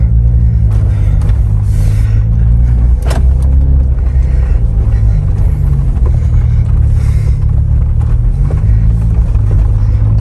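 Heard from inside the cab, a Jeep Wrangler JL with a Flowmaster American Thunder exhaust gives a constant low, muffled drone and rumble, steady and fairly loud throughout.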